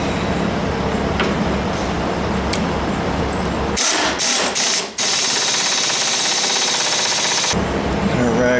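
A ratchet tightens the steering rag joint bolt on a car during steering box work, a busy mechanical clatter broken by a few sharp clicks and a brief burst of rapid ratcheting before it stops.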